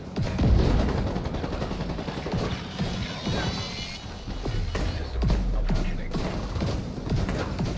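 Gunfire in Tom Clancy's The Division 2, heard as repeated sharp shots and short bursts with heavy booming impacts spread across the whole stretch, fairly loud and close.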